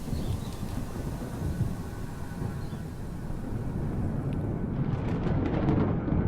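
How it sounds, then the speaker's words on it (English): Deep rolling thunder rumbles continuously and loudly in a Microsoft Flight Simulator 2020 storm, a broad low roar without talk that swells slightly toward the end. "Listen to the thunder, the roaring of this."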